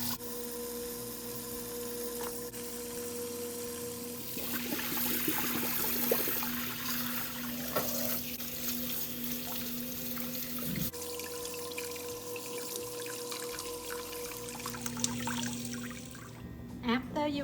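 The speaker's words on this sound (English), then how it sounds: "Rinse under the water" Crab and pork ribs rinsed under a running kitchen tap for a noodle soup, with a steady stream of water splashing into a sink and intermittent clatter as the pieces are handled, accompanied by a low hum.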